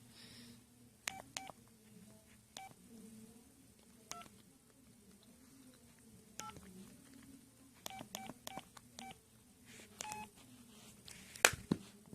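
Samsung SCH-U340 flip phone keypad giving short, close dialing beeps, scattered singly and in quick runs over low room hum, with a louder electronic tone near the end.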